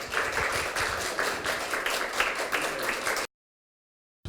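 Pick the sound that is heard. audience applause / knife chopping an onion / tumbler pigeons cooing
audience applause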